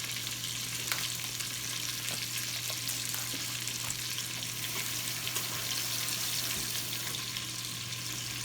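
Bacon sizzling and frying in an Instant Pot, a steady crackling hiss with scattered pops that runs evenly at moderate level throughout, under a low constant hum.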